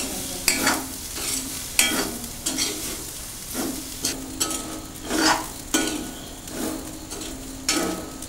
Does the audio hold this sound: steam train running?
no